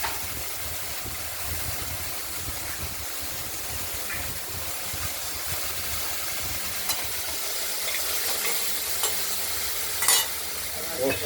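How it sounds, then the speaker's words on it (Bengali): Okra, cooked with poppy seed paste, sizzles steadily in a pan as a spoon stirs it. The hiss is continuous, with a few scraping strokes and a sharper clink near the end. "আমরা ঢাকনাটি খুলে আরেকবার ঢ্যাঁড়সগুলোকে নাড়াচাড়া দিয়ে নিলাম"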